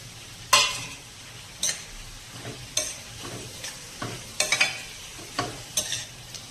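Pigeon peas and green onions sauté in a pan under a low constant sizzle, punctuated every second or so by sharp scraping clicks of a spoon stirring against the metal, close and clear with no talking.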